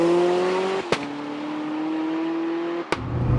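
A car engine revs hard and steady, broken by two sharp thumping upshifts, each dropping the engine note before it climbs again; close and loud, with no talking.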